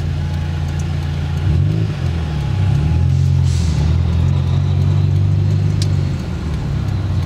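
A Subaru WRX with one exhaust silencer removed pulls away, its deep droning exhaust note rising and falling with throttle, loud and close from inside the car, with no talk.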